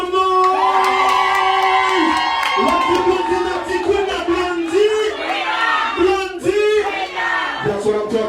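Crowd at an entertainment show cheering, whooping and shouting loudly and close, with sustained yells and overlapping voices rising and falling in waves across the whole stretch.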